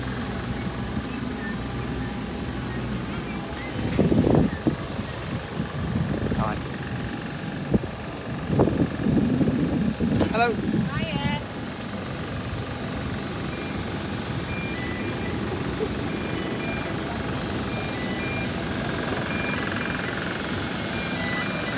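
Rotor or engine roar of an aircraft passing overhead, a steady drone that swells and fades, heard under intermittent nearby talking and a few bumps and clatters.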